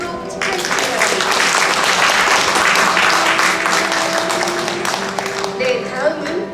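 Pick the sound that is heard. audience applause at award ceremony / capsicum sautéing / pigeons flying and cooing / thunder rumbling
audience applause at award ceremony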